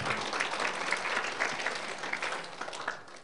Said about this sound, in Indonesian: Tepuk tangan yang dahsyat.